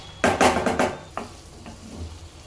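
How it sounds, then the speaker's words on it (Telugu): Potatoes frying in a pan for potato fenugreek curry, stirred in a few quick scraping strokes over a soft sizzle, close by, then fading to a quieter background hiss. "కలుపుకుంటూ ఉండాలి అడుగు మాడకుండా"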